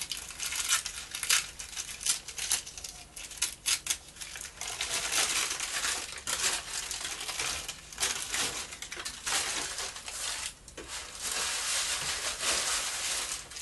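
Embossed tissue paper is ripped and crumpled by hand at close range, giving a continuous dry crackle with sharper tearing bursts throughout and no talking.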